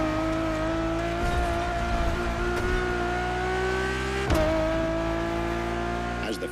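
Ferrari Enzo engine in The Crew Motorfest, a loud, steady high-pitched wail held at high revs, briefly dipping around a gear change and then climbing again, with no one talking.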